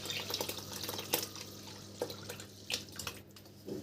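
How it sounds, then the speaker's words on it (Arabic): Milk poured into a pot of rice for rustic baked Egyptian rice, a close, splashing liquid stream with intermittent drips and gurgles, fairly quiet and without talk. "نحط بقى اللبن بتاعنا"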